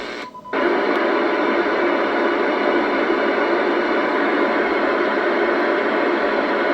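Static hiss from a 1992 Kenwood TS-850S ham radio receiver tuned around 29 MHz on the 10-meter band, a steady, loud broadband noise that starts after a brief pause and continues unbroken without voices.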